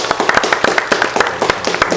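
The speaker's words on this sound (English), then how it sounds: "Can we please give a round of applause" An audience claps in dense, steady applause at a faith-based entrepreneurship talk, a loud wash of many hands with no voices.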